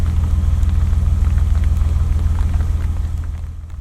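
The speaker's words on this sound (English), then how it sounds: "And of course now it's starting to rain" Steady rain falls during a narrowboat journey along a canal, a continuous soft hiss over a low rumbling engine drone, close and even throughout with no talking.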